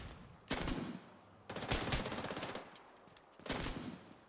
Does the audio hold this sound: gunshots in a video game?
yes